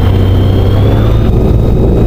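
A small aircraft engine, already warm from a recent flight, runs steadily and loudly at idle before takeoff, a constant low drone with a faint high whine throughout.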